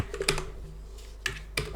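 Computer keyboard keys clatter in three short bursts of typing, close and fairly quiet, with brief pauses between them while someone types into a game chat; no one speaks.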